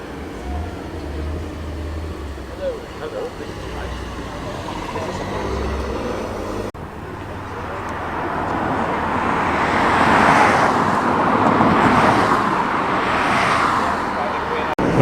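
Road traffic noise with a vehicle passing, swelling in the second half, from a 1985 Audi Coupe GT followed by a Mark III Mazda MX-5 driving past at a classic car meet at Combermere.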